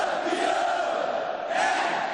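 A stadium crowd roars in a dense, sustained cheer during a tribute to Chapecoense, swelling slightly louder near the end, with no clear single voice.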